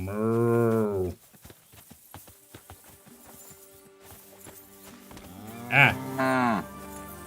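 Cattle in the video game Kingdom Come: Deliverance II moo loudly twice: one long low call at the start and a second call near the end, with scattered clip-clop steps and farm noise between them.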